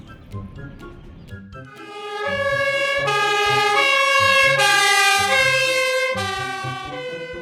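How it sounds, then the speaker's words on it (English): A toy fire engine's electronic siren blares loud and close, a steady rising-and-falling two-tone wail after a brief rattle of handling at the start. "Fire engine."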